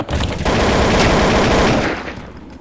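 A loud, continuous burst of rapid automatic gunfire in the video game Counter-Strike: Source, close and sustained for about two seconds before cutting off.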